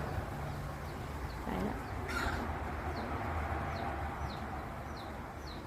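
Bantam chickens in a Thai garden during winter give soft, scattered clucks and short calls. They are heard against a constant outdoor background noise, with no talking.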